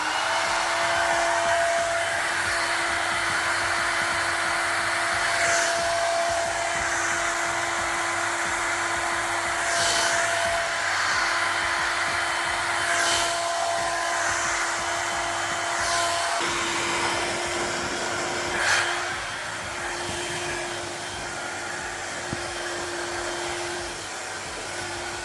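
A Feekaa ionic hair dryer with a diffuser attached runs nearby. A loud, steady blowing whir continues throughout, and its tone shifts partway through as the setting changes. No one speaks.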